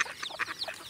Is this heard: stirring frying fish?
no